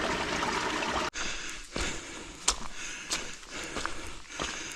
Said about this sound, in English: You can hear the water running underground here.